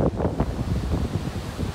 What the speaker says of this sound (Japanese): 結構風強いな。